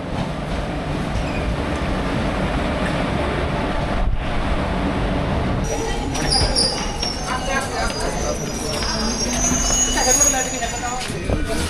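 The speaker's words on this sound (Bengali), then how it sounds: "ট্রেন কল্যাণী ছেড়ে দিলাম।" A passenger train pulls out of Kalyani station with a steady loud rumble and clatter of wheels on rails, and faint squeals rise partway through as it gathers pace; a voice talks over the noise.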